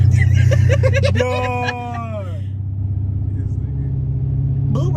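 Car engine rumbling low inside the cabin while a driver in traffic presses the gas, a steady drone with a brief rise, under loud speech and in-car talk.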